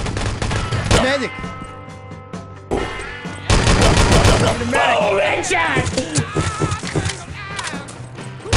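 Video game gunfire in a 2011 shooter, with repeated bursts of rapid shots and single loud reports mixed with shouted voices and game sound effects, loud and close.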